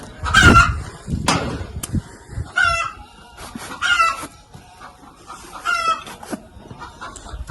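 Repeated loud honking calls from running ducks, several bursts spaced a second or so apart, close by with some rustling between them.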